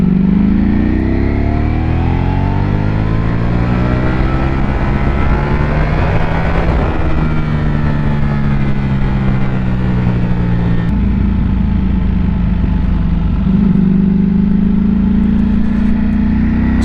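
Ducati Panigale V4 superbike engine, rated at 215 brake horsepower, screaming through hard acceleration with rising pitch sweeps, a brief shift break, then another climbing rev, loud and close throughout with no talk.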